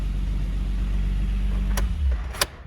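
A 1986 BMW E30 325e engine idles with a deep, steady low rumble, then dips briefly near the end, with a couple of short sharp clicks, heard close and without talking.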